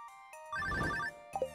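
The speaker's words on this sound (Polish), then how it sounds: "O, telefon." A telephone in the farming game Stardew Valley rings once with a bright electronic trill, short and fairly quiet, followed by a brief chime.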